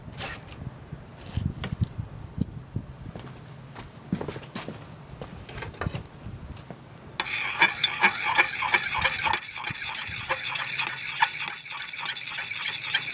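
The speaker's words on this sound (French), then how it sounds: "Vous mélangez bien." Powder mixed with white vinegar is stirred, first as light rhythmic clicks and taps of a utensil, then a denser, louder stirring hiss for the rest.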